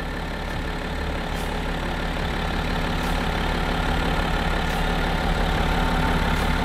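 A BMW X6 xDrive 30d diesel engine idles steadily close by, a constant low rumble with no change in pace and no voices.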